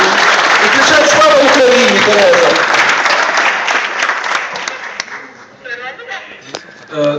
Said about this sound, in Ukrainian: Усі вам плескають.